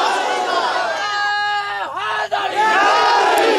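A large crowd at a religious gathering in Pakistan loudly chants a religious slogan in unison, a sustained roar of many voices that swells and dips once before rising again, close and dominant.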